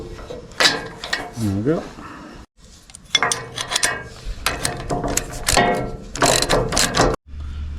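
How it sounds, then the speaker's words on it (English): A ratchet tightens bolts on a camping trailer build, giving short bursts of close, crisp clicking with brief pauses, and someone speaks briefly between the bursts. "I'll just put these bolts in just to keep it in position."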